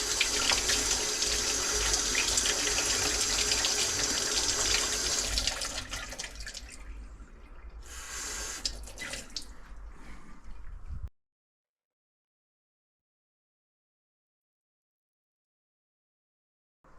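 Tap water runs steadily into a kitchen sink while garlic is rinsed for homemade garlic soup, a broad continuous splash for about six seconds, then a softer, thinner flow before it cuts off to silence.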